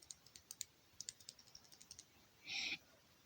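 Typing on a GK61 mechanical keyboard fitted with Gateron optical black switches: about a dozen crisp, close keystrokes in an uneven rhythm, then a brief louder rattling clack, with no talking.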